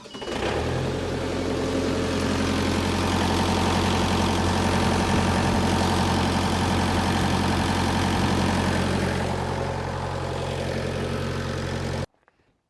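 A Power Trac 1850 tractor engine runs at a steady idle with a low, even rumble close by, then cuts off sharply near the end.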